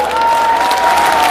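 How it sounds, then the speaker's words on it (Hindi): Large crowd of devotees at a Bageshwar Baba gathering in Deoghar applauding to thank the event organiser, a steady wash of many hands with a faint whistle-like tone running through it. "आपको ताली बजाकर धन्यवाद दो"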